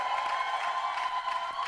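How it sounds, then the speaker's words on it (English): A crowd gives a round of applause for the royal family at the 70th birthday celebration of the Tor Tiv, a traditional ruler. The clapping is steady and sustained, fairly distant and soft, with no voices over it. "Please, a round of applause for the royal family."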